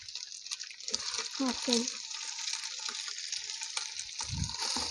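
Boiled chicken and scrambled egg fry in a pan for chicken fried rice with a continuous close sizzle and occasional stirring scrapes, while a voice talks briefly over it.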